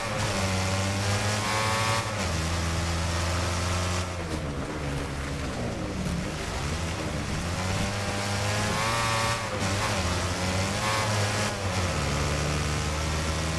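Race car engine in the demolition racing game Wreckfest, loud and continuous, revving up through gears with steady harmonic whine and brief shift dips, no talk over it.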